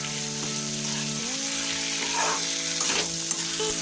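Five green chillies fry in hot oil in a pan, giving a loud, close sizzle with crackling pops, while a steady tonal hum plays underneath and no one speaks.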